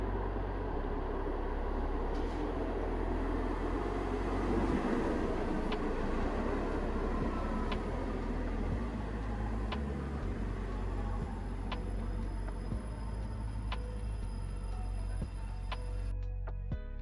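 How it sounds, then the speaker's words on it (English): An Ottawa transit train arriving at a station, a low rumbling roar that builds and then eases over several seconds. Faint ticks and tonal squeals ride over a steady low hum, with no voices. "Here comes a train."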